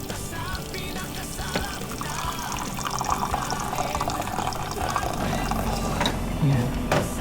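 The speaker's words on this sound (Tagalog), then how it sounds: "Lagyan natin ng mainit na tubig." Hot water is poured out to help scoop ice cream, a steady pouring splash with some clicking, mechanical rattles over seven seconds.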